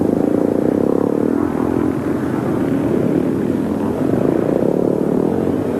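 Vintage 1960s scrambles motorcycles, a Greeves 250 and a BSA 440, racing past: a loud, steady engine drone that swells and dips slightly over several seconds, with no talking.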